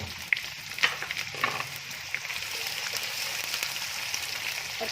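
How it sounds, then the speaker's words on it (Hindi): Onions fry with spices in a pan over medium heat while cooking aloo baingan, with a continuous soft sizzle and a few crackling pops near the start, close and low in volume, with no voices. "अब हम इसमें डालेंगे प्याज"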